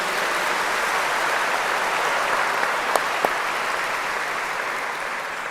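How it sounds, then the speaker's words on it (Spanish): A church congregation breaks into loud, dense applause, a steady roar of many hands clapping together that holds evenly for several seconds in a large room. "Alabe al Señor con un fuerte aplauso bien grande."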